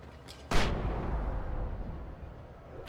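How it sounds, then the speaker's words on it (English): A flashbang grenade goes off in the game Alan Wake Remastered: one sudden loud blast with a deep boom, then a long rumbling tail that fades slowly. "that was a flashbang"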